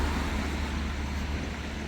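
Small cars in rainy Mediterranean street traffic give a steady, broadband roadway rumble and hiss throughout, with no distinct pass-bys or voices.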